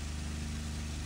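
A P-51 Mustang engine roars at full throttle in the IL-2 1946 flight simulator, a steady, dense low drone that is loud and unbroken, with no voices.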